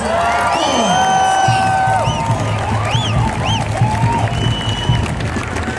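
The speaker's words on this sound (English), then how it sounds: "Give Neil a big round of applause" A large outdoor freedom rally crowd in Perth claps and cheers continuously, with whoops and whistles rising above steady applause, loud and close throughout.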